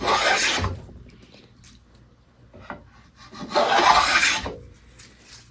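A hand rabbet and chamfer plane cuts a chamfer along a wooden edge, giving two long, close rasping strokes separated by a quiet pause, with faint wood handling between them.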